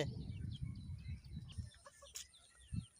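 Faint chicken clucks and soft bird calls sound at a distance, mixed with low rustling and handling noise.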